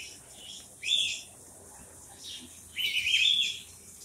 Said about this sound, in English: All different kinds of birds in here.